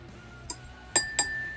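Flaxseed dropped into a wine glass, giving a few small, bright glassy clinks spaced apart, close and fairly quiet.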